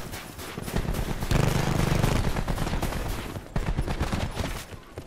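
Handgun shots in the video game Call of Duty Black Ops 4 mix into a dense, rapid volley of close, loud gunfire that barely lets up for about five seconds.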